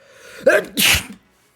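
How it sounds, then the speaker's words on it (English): A single loud sneeze, a sharp intake and then an explosive burst, followed by silence. "I'm gonna sneeze"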